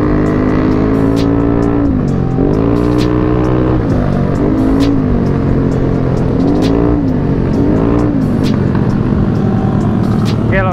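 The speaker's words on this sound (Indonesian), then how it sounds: "enak anjir suara knalpotnya" Yamaha Aerox scooter exhaust heard while riding, a loud droning engine note that rises and falls repeatedly as the throttle opens and eases, close and continuous throughout.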